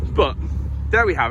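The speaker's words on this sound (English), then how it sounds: "I must apologise for the noise today, because I'm by the main road" Traffic from a nearby main road gives a steady, low rumble beneath a man's brief spoken remarks, continuing in the background throughout.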